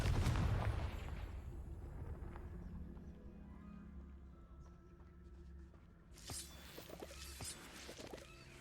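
A Confringo explosion spell goes off in Hogwarts Legacy, a loud low blast at the start that rumbles and decays over several seconds, followed later by softer clattering game sounds.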